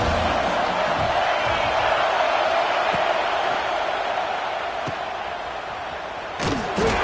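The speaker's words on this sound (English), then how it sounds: "Hang on, Swoopy, the Buckeye crowd alive on 3rd down." A college football video game stadium crowd roars steadily as Buckeye fans get loud on third down, a dense continuous wall of cheering with a few thumps near the end.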